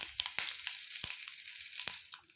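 Curry leaves and asafoetida hit hot oil for a tempering alongside cumin, giving a faint, scattered crackle with a few sharp pops over a low sizzle.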